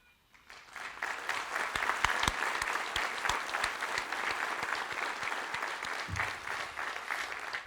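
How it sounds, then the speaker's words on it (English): Sustained applause from an audience at a sports hall of fame induction ceremony honoring a 2008 team, rising quickly to a steady dense wash of clapping that holds for several seconds. "just please stand up really quick and let everybody give you a round of applause"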